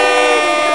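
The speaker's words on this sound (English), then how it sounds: "We're gonna give you some air horns." A loud, sustained blast of an air horn sound effect, a bright brassy tone held steady without a break for under a second, with no voices over it.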